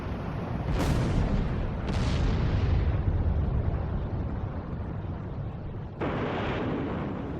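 Missile explosions in the flight combat game Ace Combat 6 over the Moloch Desert, a sustained roar of rumbling blasts with sharp bursts rising at intervals, loud and close.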